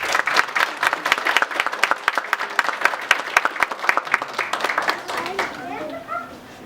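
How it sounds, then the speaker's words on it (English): Audience clapping at a book launch party, a lively round of applause with sharp, closely spaced claps that taper off near the end as scattered voices take over. "give her a big round of applause for all the treats she brought for us today"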